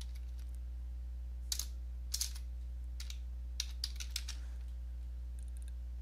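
Sparse keystrokes on a computer keyboard while typing a product name into a support search box, a few soft clicks in short clusters over a steady low hum, with no voices.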